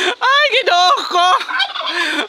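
Close, loud turkey gobbling in rapid warbling bursts, three quick calls followed by a trailing run of shorter gobbles.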